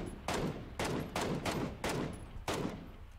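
PUBG gunfire comes in six sharp, loud bursts at roughly half-second intervals, each a punchy crack followed by a short decaying echo, heard alone without voices.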